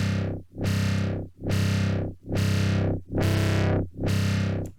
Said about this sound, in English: we can add distortion with drive